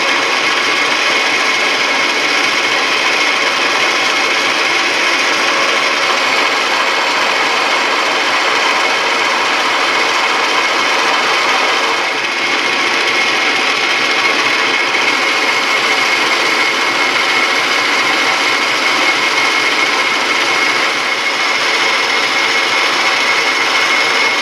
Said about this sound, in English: Noisy lathe, that's for sure.